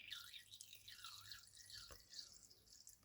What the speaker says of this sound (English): I have put some water in there, so it should pump